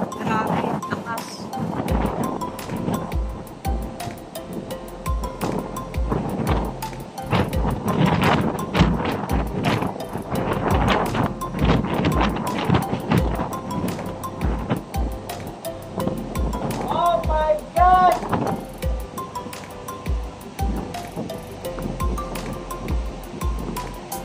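Strong typhoon wind roars steadily throughout, with gusts buffeting the microphone and a dense, surf-like rush of air; people talk intermittently beneath the wind.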